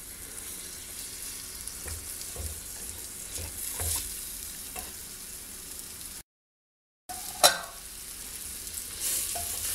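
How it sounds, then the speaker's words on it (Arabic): Meat, onion and oil fry together for Tunisian chorba, a soft steady sizzle with occasional stirring scrapes, cut by a brief silent gap and a sharp clink afterward. "توا اللحم والبصل والزيت والرفاحات نقلاو شوية"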